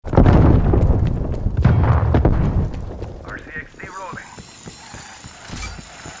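A Semtex grenade detonates in a shooter video game with a loud, close, rumbling blast that rolls on for a few seconds, then fades into quieter mechanical clicks and game effects.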